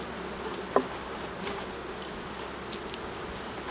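Buckfast honey bees buzz steadily in a low, even drone around an open hive, with a brief sharp click near the start and a few faint higher ticks later.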